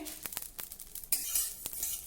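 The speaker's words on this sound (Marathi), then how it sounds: "हे अळीव मस्त भाजून झाले छान तडतडायला लागले आहे" Faint crackling and light sizzling from garden cress seeds roasting in a pan, with soft scattered pops and scraping stirs.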